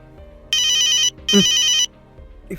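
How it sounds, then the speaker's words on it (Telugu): A phone ringtone rings in two loud electronic bursts, each about half a second to a second long with a short gap between them, followed by quiet room tone. "ఫోన్ ఒక్క నిమిషం మేడం"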